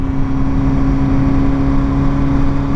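Honda CBR1000RR-R motorcycle engine running steadily, a smooth, even drone held at constant speed, loud and close with no talk.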